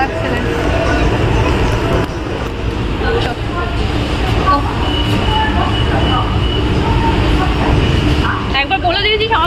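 A metro train ride in Kolkata, heard as a continuous loud rumble of the carriage and rails with people talking nearby throughout.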